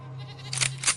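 Frightened goats bleat in a short story sound effect, with two quick shrill cries over a low steady hum.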